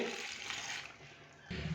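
One glass of water poured into beef karahi in a cooking pot, a steady splashing rush of liquid that briefly fades then picks up again.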